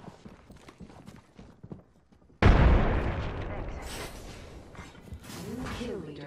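A frag grenade detonates in Apex Legends with a sudden loud, deep boom that decays into a rumbling tail, following faint game noises and ending with a rising synthetic tone.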